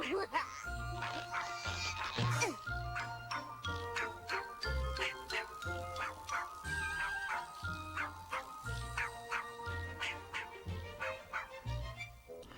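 Buttons, the cartoon dog from Animaniacs, barking in a series of short repeated woofs and yips over a bouncy cartoon music score, with a voice talking along.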